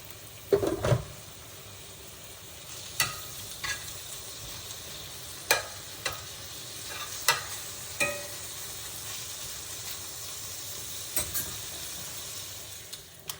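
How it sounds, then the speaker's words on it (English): Bacon frying in a skillet gives a steady low sizzle, broken by sharp scattered clicks and scrapes of a utensil stirring and turning the strips, with no talk. "Got the bacon on. We're going to fry that in the skillet."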